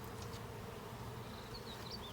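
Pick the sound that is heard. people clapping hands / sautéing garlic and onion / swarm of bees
swarm of bees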